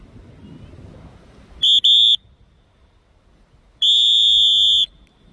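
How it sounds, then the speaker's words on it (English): A coach's whistle at sprint and middle-distance track training: two short, loud, close blasts, then a single long sustained blast, with quiet wind noise between. "Two whistles, one whistle."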